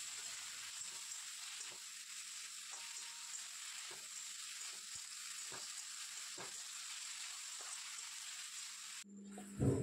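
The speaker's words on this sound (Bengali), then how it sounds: "ওইদিকে তেল গরম হয়ে গেছে, আলুগুলো ভেজে নেব" Thick-cut potatoes frying in hot oil with salt and turmeric, a steady close sizzle with occasional soft clicks of stirring, ending in a brief louder clatter.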